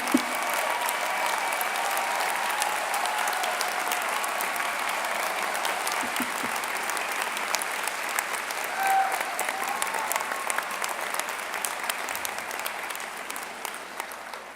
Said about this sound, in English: Would you please stand and receive our applause and heartfelt appreciation for your service?